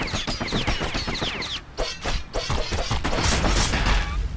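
Rapid, rough volleys of twin slinger pistols fire in Bastion, dense overlapping shots and impacts packed tightly in a loud, continuous barrage with a brief lull midway.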